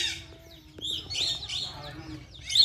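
Flock of decoy parrots, kept about fifty to a household for trapping wild parrots, screeching and chattering noisily in short overlapping calls close by, with someone talking over them.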